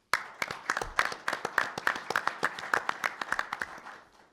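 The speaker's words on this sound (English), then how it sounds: "Please join me in applauding Eric and Valero for their partnership" A press conference audience for the Valero Alamo Bowl head coaches gives a short round of applause: a modest number of separate, crisp hand claps in a quick, uneven patter that thins out toward the end.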